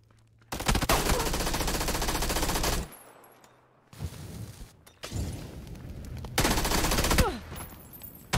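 Gunfire in a multiplayer video game with vehicle physics: loud bursts of rapid automatic fire in two long volleys, separated by quieter scattered shots and thuds, with no talk over it.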